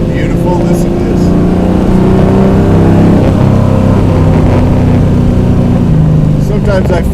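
Plymouth Cuda V8 engine rumbles loud and close as the car drives around LA, holding a deep steady drone with shifting pitch as it revs; a few faint background sounds appear near the end.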